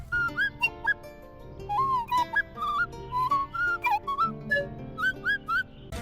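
In a video game, a warbling, squeaky whistle-like tone voicing rats wavers up and down in short chattering phrases over a busy musical backdrop, like a broken flute mimicking speech.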